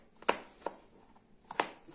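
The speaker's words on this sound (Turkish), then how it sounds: "doğramaya başlayacağız." A knife chops peeled garlic cloves into small pieces on a cutting board, giving four sharp, close taps in an uneven rhythm with quiet gaps between.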